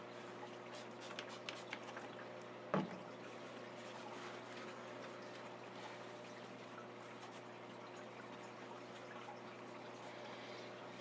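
Steady trickling, pouring water fills an aquarium during a water change, a continuous soft flow with a few faint early splashes and one sharp knock, no talk.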